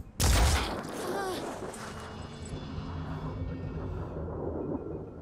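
A gunshot in the turn-based tactics game Phoenix Point, fired for a headshot: one loud sharp report at the start, then a long rumbling tail with a low drone and faint game sounds trailing off.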